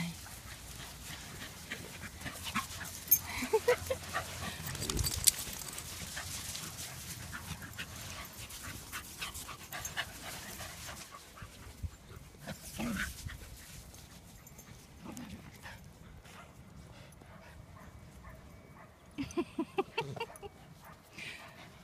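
Dogs pant and play on a sandy beach on a sunny day, with faint breathing, occasional yips and scuffling under a low steady outdoor background.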